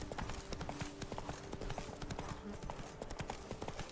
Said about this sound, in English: He makes little horsey noises to encourage Roach every once in a while.